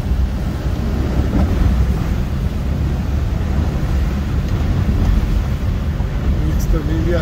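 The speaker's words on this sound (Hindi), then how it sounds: "पानी बहुत तेज है लेकिन गाड़ी बाहर निकालनी पड़ेगी।" Fast, heavy floodwater rushes around a vehicle caught in a flooded road, a steady loud broadband roar with wind buffeting the microphone throughout.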